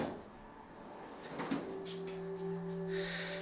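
A drawer of a mechanic's toolbox slides in a single quiet motion, with a soft scrape followed by a faint lingering squeal in a still room.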